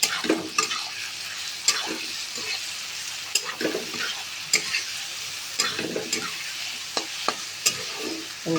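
A paste of cumin, whole garam masala, green chilli and dried red chilli is stirred in a hot frying pan for an oler curry. A spatula scrapes and taps rhythmically over a constant sizzle.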